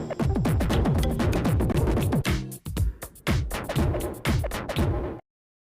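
A DJ remix track built in a mobile app pounds out heavy bass beats and punchy effects in a dense, rhythmic stream, loud throughout with brief dropouts, before cutting to silence.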